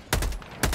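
Two sharp, loud gunshots from a weapon in the video game Helldivers 2, spaced about half a second apart, each with a short booming tail.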